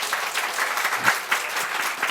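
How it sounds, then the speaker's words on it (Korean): Applause from a church congregation during a morning service, a steady wash of many hands clapping throughout, fairly close and even, with no talk over it. "이 시간에 우리 감독님 한번 박수 한번 해드리십시오."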